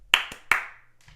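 Three sharp hand claps, close and crisp, in quick uneven succession, with a brief faint sound trailing after.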